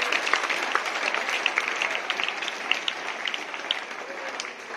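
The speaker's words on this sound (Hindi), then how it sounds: "जोरदार तालियां इनके लिए।" Audience applause at a prize distribution ceremony after a folk singing award, a steady crowd of clapping hands sustained for several seconds at moderate loudness with no talk over it.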